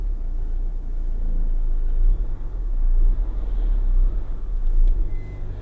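A Peugeot 207 1.4 HDi panel van on the move, its steady low engine and road rumble droning continuously from inside the cab with slight swells in level.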